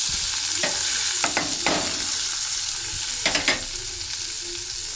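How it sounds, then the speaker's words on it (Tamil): Onion and curry leaves fry in a pan with a steady crackling sizzle, and several sharp scraping stir strokes come through clearly on top. "கருவேப்பிலை போட்டேன். பார்த்தீங்களா, பொரிஞ்சிட்ருக்கா? இப்போ வெங்காயம்."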